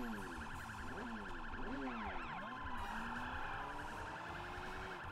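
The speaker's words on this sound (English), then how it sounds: "Ah, what the hell is a siren?" A wailing police-style siren from the video game Sleeping Dogs rises and falls continuously over engine and game noise, loud and unbroken throughout.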